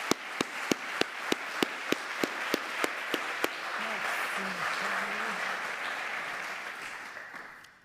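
An audience at an executive MBA governance panel applauds, opening with a few sharp, evenly spaced claps that swell into a sustained wash of clapping and fade toward the end, with faint voices underneath.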